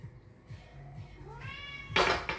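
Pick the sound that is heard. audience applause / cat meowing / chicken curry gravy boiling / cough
cat meowing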